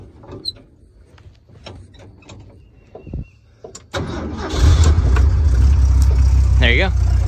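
A 1980s Ford car engine cranks and catches, then settles into a loud, steady running rumble close by, following a few seconds of quieter speech and handling noise.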